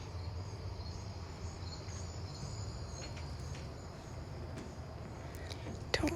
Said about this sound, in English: Don't really know what's going on with the like cicada and bird noises in the background.